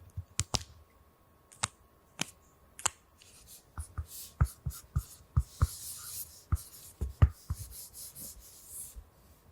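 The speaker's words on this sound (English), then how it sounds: "That was the sound of my signature." A pen scratches and squeaks across the smooth surface of a vinyl record up close, with sharp taps and short strokes in an irregular rhythm.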